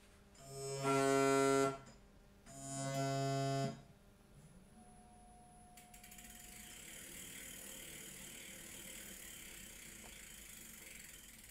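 An e-bike motor run by a VESC controller during motor detection gives two loud, buzzing tonal bursts, then a quieter steady whirring spin with a faint whine.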